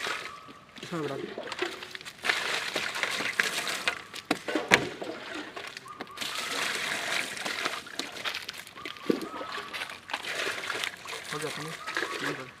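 Water poured into a large batch of watermelon juice being made outdoors, a steady splashing and sloshing stream that runs nearly throughout with brief pauses, mixed with background chatter and activity.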